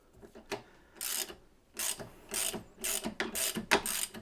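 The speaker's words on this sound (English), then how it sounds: "This side will hold the nut in place, and then the chisel will split the nut." A ratchet turns on a metal nut splitter to crack a nut, giving close, quiet bursts of clicking and grinding strokes in an irregular rhythm.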